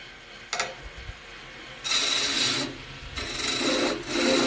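A skinny skew chisel cuts wood spinning on a lathe, with short bursts of rasping, scraping contact separated by brief pauses and a quiet whirring in between.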